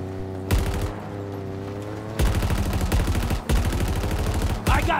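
Rapid bursts of turret gunfire from Halo Infinite rattle out loud and close in several long strings, separated by short gaps, over a steady low vehicle hum.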